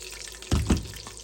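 Boiled water from a small teapot poured over vegetables in a pan, a brief splashing burst of two quick pours amid quiet kitchen sounds.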